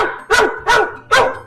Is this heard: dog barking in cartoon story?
yes